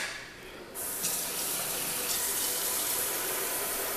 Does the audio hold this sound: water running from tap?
yes